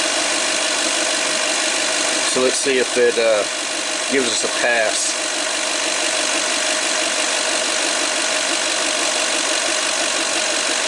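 A 2007 Toyota Sequoia engine idles steadily at a low, even drone under an alternator test, with a person talking briefly over the continuous hum.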